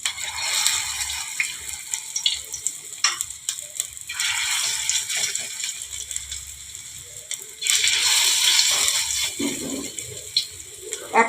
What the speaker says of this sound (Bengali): এক পাশ ভাজা হলে তারপরে আমি আস্তে আস্তে সরিয়ে দেবো